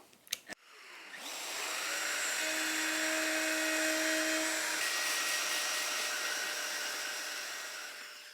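A router cuts hinge recesses guided by a jig in an artist's box, starting with a couple of clicks, then spinning up into a loud, sustained high whine that holds steady before gradually easing off.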